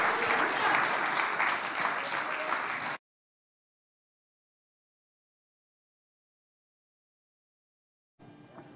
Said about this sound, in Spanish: Dele un aplauso al Rey, aleluya.